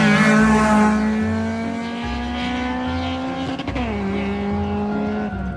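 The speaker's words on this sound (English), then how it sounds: "Once you hit that rev limiter, it would just..." A 2005 Toyota Corolla XRS engine held at high revs, bouncing off its rev limiter with a steady droning note that stutters and dips briefly, then settles back, loud and close with no talking.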